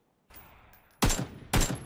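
Two sharp, close bursts of AK rifle fire in Fortnite crack out after a quiet start, each a short loud volley separated by a half-second pause.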